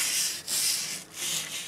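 A brush scrubs foam cleaner into a car steering wheel, making a loud, close, hissing scrub in three long back-and-forth strokes with brief dips between them.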